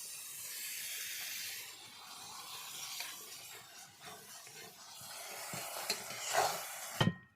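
Rooster meat sizzling and being stirred in spice paste in a hot pan, a steady loud frying hiss with scraping stir strokes that grow busier near the end, then an abrupt stop.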